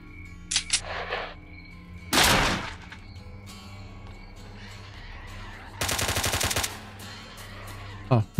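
Bursts of automatic gunfire and single shots from Stalker: Shadow of Chernobyl, heard as a brief crack, a longer volley, then a sustained rattling burst, loud and close with quiet gaps between.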